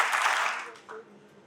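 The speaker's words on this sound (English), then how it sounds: "Can you please clap?" An audience at a Pakistan US alumni reunion in Karachi gives a brief, roomy burst of clapping that quickly fades, followed by a short voice.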